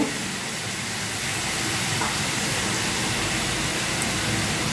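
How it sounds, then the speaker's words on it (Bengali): Chicken pieces fry in hot oil in a pan for a chicken soup curry, a loud steady sizzling hiss that stays even and continuous with no talk. "এবার এতে চিকেন ছেড়ে দিয়ে একটু ভেজে নেব, সতে করা মতো, বেশি ভাজবো না।"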